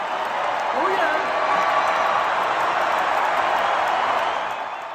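A large concert crowd at the O2 Arena in London roars and cheers as a musician walks on stage during a concert, a dense, sustained wall of noise that fades slightly at the end.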